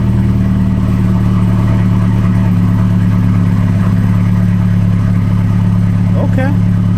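A BMW engine running at idle, a steady low drone throughout with a faint brief chirp near the end.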